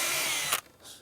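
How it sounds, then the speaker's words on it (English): A power drill bores a pilot hole into pine for door hinge screws, a loud steady high whine that cuts off sharply about halfway through, leaving a quieter faint hiss. "just pre-drill the holes"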